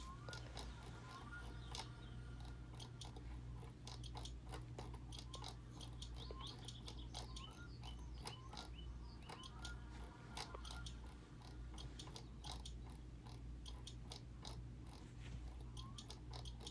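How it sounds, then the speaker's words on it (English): A wrench tightens four bolts on a car in the My Summer Car video game: dense rapid clicking ratchet ticks over a steady low engine-like hum, continuous and close, with no talking. "Now we grab the 13. We tighten these 4 bolts really quick."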